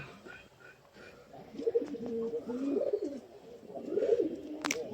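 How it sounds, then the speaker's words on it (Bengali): Red wild pigeons coo in a loft, soft throaty calls repeating in uneven bursts, fairly close and moderate in level, with a few faint chirps and background rustle. "এই যে একটা মদ্দা কবুতর, আর ওনার সাথে অন্য একটা কবুতর জোর দেওয়া আছে।"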